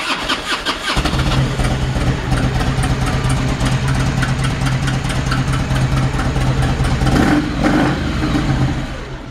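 A 2002 Harley-Davidson Ultra Classic motorcycle with about 48,000 miles cranks and starts after a short pause, then settles into a loud, steady, lumpy idle with a low rhythmic throb, heard up close with no talk.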